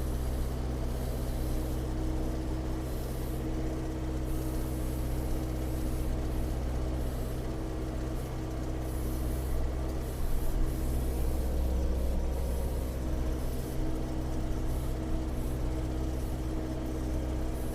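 A Bulat tractor driving past, hauling manure across a field: a steady, loud low engine drone with a constant rumble that stays level throughout, with no voices.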